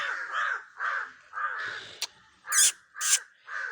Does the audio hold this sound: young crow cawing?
yes